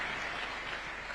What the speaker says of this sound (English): Let's also give a clap to my Principal Secretary, Charles Hinga, as he sits down.